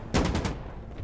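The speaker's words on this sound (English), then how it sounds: "I'm going Rambo, I'm just using the pistol." A pistol fires in Insurgency Sandstorm, a rapid burst of about four loud, close shots, followed by a fading echo.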